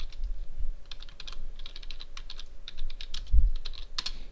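Rapid typing on a computer keyboard while entering a chat message in the Minecraft MineZ server, a quick uneven run of close key clicks with a couple of heavier thumps, no talking.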